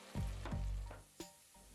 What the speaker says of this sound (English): Fry this for 3 to 4 minutes.